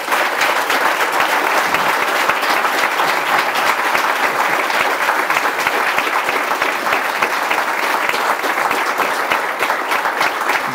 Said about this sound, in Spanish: yo quisiera pedirle un aplauso para nuestros invitados